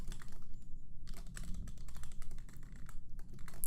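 Password typed on a computer keyboard, a quick run of close key clicks over a steady low background hum, with no one talking.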